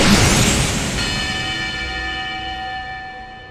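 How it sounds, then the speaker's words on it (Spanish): A boxing ring bell rings to end round five in the Hajime no Ippo anime, struck once and then left to hum in a long, bright, fading tone over a noisy crowd-like wash, with no talking. "justo ahí suena la campana. El round número 5 ha llegado a su fin."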